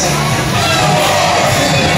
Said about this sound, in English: let's give one last cheer to all our folks out there celebrating birthdays and birthdays